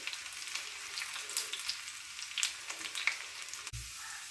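Shallots and dried red chillies fry in hot oil, a steady soft sizzle with crackling pops running alone throughout, then a brief dull knock near the end.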